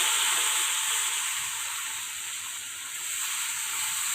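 Gunda dropped into hot oil with popped mustard seeds and cumin for a Gujarati gunda sambharo, giving a steady, even sizzling hiss that holds close and fairly loud throughout, dipping slightly midway.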